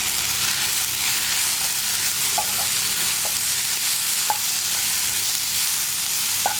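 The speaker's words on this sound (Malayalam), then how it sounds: "ഇനി ഒന്ന് തുറന്നിട്ട് ഇളക്കി കൊടുക്കാം." Tomatoes cooking in a pan give off a constant loud hiss and sizzle, while a spoon scrapes and knocks against the pan a few times as they are stirred.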